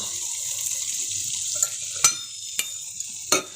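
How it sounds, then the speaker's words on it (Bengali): Potatoes frying in oil in a heated wok give a steady, moderate hiss, punctuated by a few sharp knocks and scrapes of a utensil at irregular intervals. "এবার তেলটা দিয়ে দেবো, আলুটা ভেজে নেব।"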